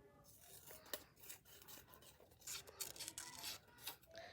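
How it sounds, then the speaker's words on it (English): Scissors snip through paper in a quick, uneven series of crisp, rasping cuts, close by, with no voices. "keep your scissors straight ahead, turn the paper"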